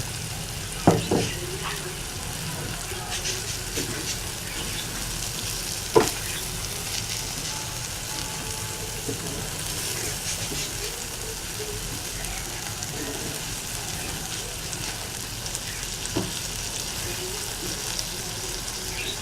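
Minced beef keema and chopped tomatoes fry on a tawa, a steady close sizzle with occasional sharp clinks of stirring, lasting throughout at moderate volume.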